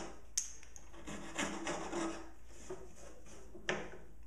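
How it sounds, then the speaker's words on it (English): A hand saw back-cuts wooden crown molding, giving soft, uneven rasping strokes with a few sharper knocks, quiet and close with no talk. "I'm making a back cut into the crown mold"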